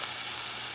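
A ribeye steak sizzles in a hot pan, a steady bright hiss of frying, close and constant for under a second.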